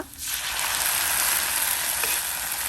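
Ground masala fries with onions in a pan for street-style egg tawa masala, a loud, steady hiss of sizzling oil that starts almost at once and holds close and even to the end.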